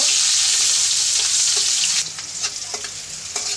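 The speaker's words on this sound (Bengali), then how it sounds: "ভাজা দেবো একটু লাল লাল করবো পেস্টটি।" Spice paste with cumin sizzles and fries loudly in a pan for a singi fish curry with bitter gourd and potato, a steady hiss that drops a little after two seconds, with scattered stirring scrapes and no talk.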